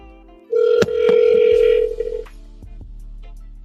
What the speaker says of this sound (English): I'm actually gonna make a phone call.